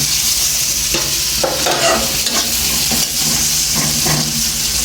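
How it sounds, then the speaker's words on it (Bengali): Koi fish fries in oil in a pan with green chilies while being stirred, giving a steady loud sizzle with repeated scraping stirs and no talking. "এগুলো দিয়ে ভালোভাবে নেড়ে সরে মিশাতে হবে এই সুন্দরভাবে নাড়াচাড়া হবে"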